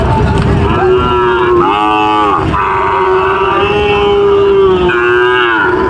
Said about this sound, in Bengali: সাইডে আরেকটা শাইওয়াল গরু